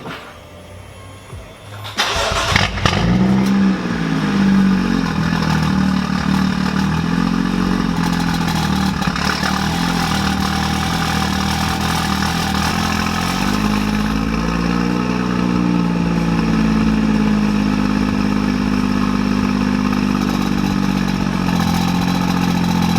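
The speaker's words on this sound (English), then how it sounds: "I just showed you a clip of the car being started" A BMW 435i with an N55 engine and stage 2 turbo cranks briefly, fires up loudly and settles into a steady, rumbling idle that holds for about twenty seconds with a slight shift midway.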